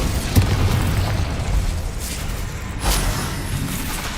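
Booming spell blasts from the Bombarda explosion spell in Hogwarts Legacy, a loud low burst near the start and another around three seconds, over a steady rumbling game background.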